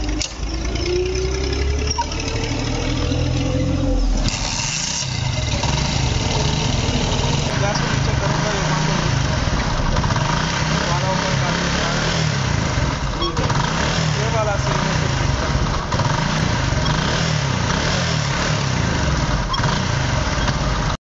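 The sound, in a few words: motorcycle engine restarting when side stand raised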